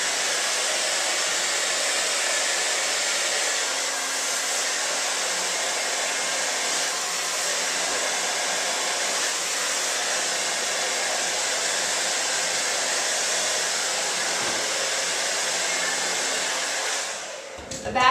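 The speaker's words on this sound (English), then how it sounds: "So I'm going to go ahead and put the hairdryer there." A handheld hair dryer blows steadily and loudly at the roots of hair during a round-brush blow-dry, holding one even roar for about seventeen seconds before cutting off at the end.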